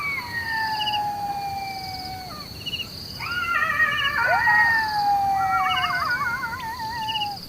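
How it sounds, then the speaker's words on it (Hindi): Several jackals howl at night in the Namibian wild, long wavering and sliding cries overlapping in a loose chorus, clear and fairly close against a quiet dark background. "अंधेरे में आसपास सियारों की भीड़ जमा होनी शुरू हो गई है।"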